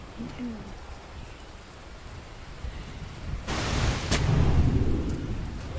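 Rain hisses steadily in the Dota 2 video game, then thunder swells into a loud, rumbling roll about halfway through, with a sharp crack near its peak before the rain carries on.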